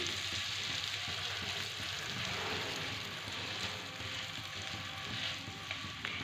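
Butter-coated garlic bread laid in a greased pan, a steady dense crackling sizzle, close and continuous throughout, with faint background hiss.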